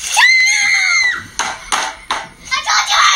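A child lets out a loud, high-pitched scream and then a run of shorter shrieks and shouts, which break off and start again in quick bursts close to the microphone.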